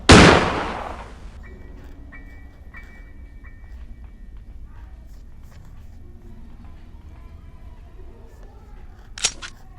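A single loud gunshot in the horror video game Granny bursts at the start and fades, followed by quiet game ambience with light ticks and a brief sharp noise near the end.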